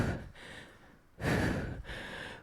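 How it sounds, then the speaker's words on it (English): Heavy, close breaths during a TRX suspension trainer workout: a few sharp exhales and gasps separated by short pauses, loud and alone. "you can hear every single breath I take"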